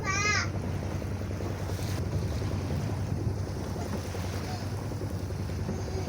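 A sailboat runs on open blue sea in steady wind, a constant rushing roar of wind and waves against the hull, with a brief whistle-like chirp at the start.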